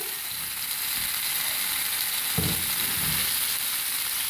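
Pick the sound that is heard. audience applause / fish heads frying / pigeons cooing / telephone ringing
fish heads frying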